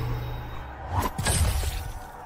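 Glass shattering during a fatality in a Mortal Kombat video game, a crunching burst of breaking shards with a whooshing sweep over a low game rumble.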